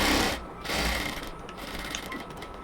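A sewing machine stitches a yellow cotton dress in a fast, close mechanical whirr that stops briefly and then runs on, steady and even.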